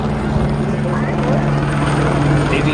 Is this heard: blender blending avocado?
no